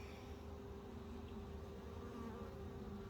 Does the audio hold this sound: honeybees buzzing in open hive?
yes